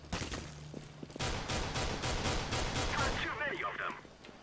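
Rapid string of P250 pistol shots in Counter-Strike: Global Offensive, a dense volley of sharp, loud cracks close by with reverberant tails after a brief lead-in.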